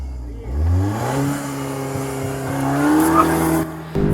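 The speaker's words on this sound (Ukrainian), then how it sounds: "І Рома поїхав свою залікову спробу" A race car accelerates on a track, its engine note climbing as it pulls away with a brief tyre squeal, loud and near.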